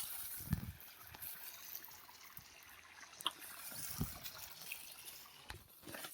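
Irrigation water trickles and gurgles into a wheat field in the open countryside, a faint continuous flow with a few soft splashes, no voices.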